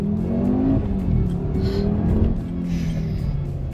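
An Audi RS3 accelerates hard over cobblestones, its engine note loud, steady and close throughout, with a slight rise and fall as it pulls through gears.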